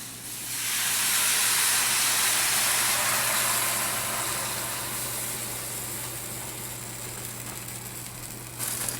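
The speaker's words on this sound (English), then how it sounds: "I'm gonna add vinegar to it now." Vinegar poured into a hot pan of escovitch pickled vegetables bursts into a loud, sustained hiss and sizzle that slowly eases off. It stays close, with no talking over it.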